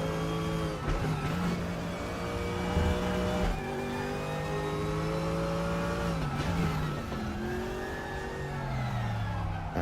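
Porsche race car in the RaceRoom racing game, its engine note rising and falling through repeated revving and gear changes, loud and close, with brief tire noise and no talking.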